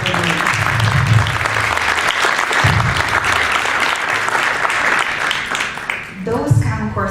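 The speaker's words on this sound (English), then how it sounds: "they deserve definitely a round of applause" An audience at a school curriculum presentation applauds teachers with sustained, dense clapping lasting several seconds before fading, with voices mixed in near the end.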